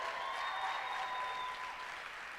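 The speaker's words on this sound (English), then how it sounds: "that deserves a round of applause for sure" Audience applause at the Dixie's Got Talent 2021 finale show, a steady wash of clapping from a crowd over a faint sustained tone, holding level throughout.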